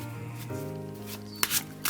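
A tarot deck is shuffled by hand in a short burst of riffling card sounds, close and fairly quiet, ending in a sharper flurry.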